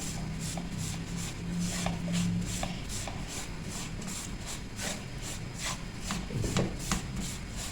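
Semolina roasting in a pan for besan tukri halwa, with steady dry scraping and rubbing strokes of a spoon stirring it at close range, a regular rhythm repeating through the clip with no voices.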